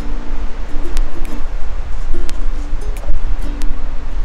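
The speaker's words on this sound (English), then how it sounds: "It's a little bit windy, but it's all right because it's keeping it cool." Steady wind blows and gusts across an open beach, with a low roar, occasional faint tones and clicks, and no talking.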